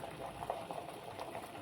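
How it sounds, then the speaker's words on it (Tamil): Water with carrots and beans boils in a pot on a noodle dish, a soft continuous bubbling and churning that stays low and steady throughout. "கேரட்டும் பீன்ஸும் நல்லா கொதிச்சிருச்சு."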